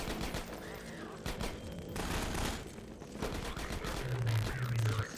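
Sniper gunfire rings out in Half-Life 2 Episode 1 amid continuous game noise, with sharp repeated shots, several distinct bursts over a dense, busy background and a low hum near the end.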